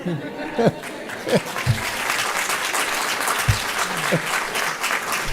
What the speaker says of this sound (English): I will allow one good clap on that one, sir